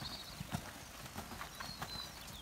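Hooves of a horse cantering during a riding lesson thud in a steady, rolling rhythm on the arena surface, fairly faint and slightly distant, with no talking heard.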